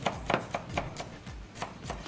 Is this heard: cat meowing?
no